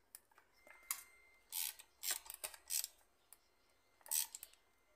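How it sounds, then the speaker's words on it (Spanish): A wrench tightens a nut on the shaft of an Oster blender under repair, giving short metallic ratcheting scrapes and clicks in irregular bursts, close and fairly quiet. "Y ahora sí proseguimos a apretar nuestra tuerca."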